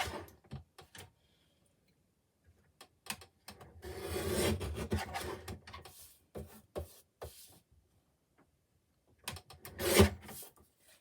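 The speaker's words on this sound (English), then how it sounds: "it's better to use a guillotine when you're going to cut anything across here" Paper card stock cut on a guillotine trimmer for an A6 handmade card, heard as several short close slicing and rasping strokes with quiet gaps between them and a louder, longer cutting pass near the end.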